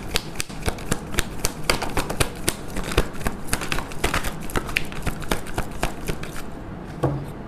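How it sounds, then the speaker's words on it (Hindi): A deck of tarot cards being shuffled by hand, a rapid close run of crisp riffling snaps and flicks that continues steadily and fairly loud, with no voices. "एक ही शफल करेंगे, जिस भी कार्ड को आना है आ जाए।"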